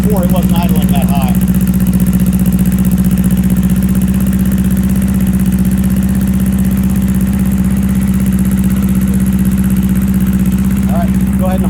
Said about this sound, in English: That's fast idle because it's cold.